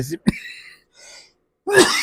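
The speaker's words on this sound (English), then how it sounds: "I had this place fumigated and it's still making me cough some" A man coughs a couple of times, short and close, between bits of hoarse speech.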